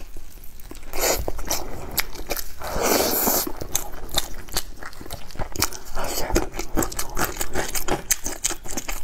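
Stringy sheep brain being bitten and chewed up close, with wet, sticky squelching and soft crunching bites in an irregular rhythm, loud and intimate throughout with no talking.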